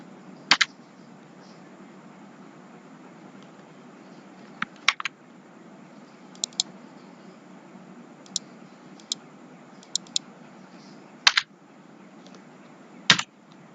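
Typing a website address on a computer keyboard, scattered sharp individual key clicks with irregular gaps, close and crisp over a faint steady background hiss.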